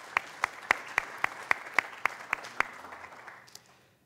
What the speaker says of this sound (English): Round of applause for Brother Brooks.